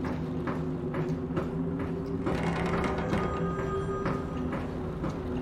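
A telephone rings in the video game Watch Dogs Legion, a steady repeating electronic ring with regular pulses over low mechanical hum and room ambience.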